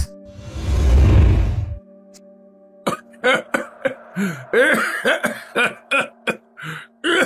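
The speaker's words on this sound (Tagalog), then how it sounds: "Mukhang inaatake na naman po kayo ng ubo ninyo" A long, loud hacking cough fills the first two seconds, then a person talks in short bursts afterward.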